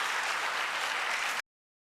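Applause from a political debate audience, a dense wash of many hands clapping at moderate distance, steady for over a second and then cut off abruptly.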